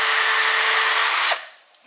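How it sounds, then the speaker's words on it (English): A power drill cleaning out a hole in a 1968 Pontiac GTO Bakelite steering wheel whirs steadily at high speed, loud and close, then stops and spins down, followed by a small click. "And then I drilled this out,"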